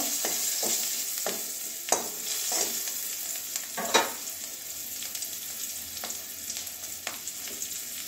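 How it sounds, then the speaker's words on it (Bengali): Garlic and green chillies fry in hot oil, a steady close sizzle broken by several sharp stirring scrapes and clicks of a utensil against the pan. "রসুন আর কাঁচা লঙ্কা ভেজে নেব কাঁচা গন্ধ যাওয়া পর্যন্ত"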